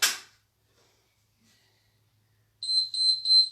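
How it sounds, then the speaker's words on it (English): After a brief burst of noise and a quiet pause, a high electronic timer beep pulses three times in quick succession, clear and fairly close. "Oh my God, there's loads of beeps. Is it ever going to stop?"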